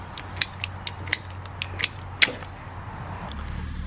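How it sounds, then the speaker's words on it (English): A drain line being cut to size with a ratcheting cutter, heard as a series of about ten sharp, close clicks in quick uneven rhythm, then a quiet pause with faint handling noise. "I'm gonna go ahead and cut this one down to the required size"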